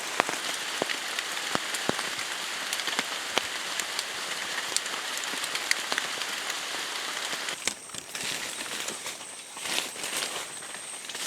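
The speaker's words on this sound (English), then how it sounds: "now it's raining again, so I'm trapped by rainfall, unfortunately" Steady rain falls on a roadside camp in South America, a dense hiss of patter with scattered individual drops striking surfaces, continuous and fairly loud throughout with brief lulls near the end.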